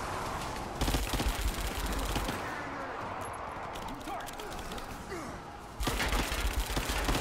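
Pistol shots and rattling bursts of gunfire in Rise of the Tomb Raider hit loud and close at the start, give way to a quieter stretch with scattered faint sounds, and then return in a dense burst at the end, with a voice speaking over the action.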